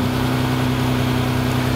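A Maserati engine runs steadily with a smooth, even drone and a strong low hum. It holds at one level the whole time, close and loud, with no voices.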